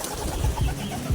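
A pigeon coos softly near its loft as it is let out, a brief low throaty murmur close by with no speech.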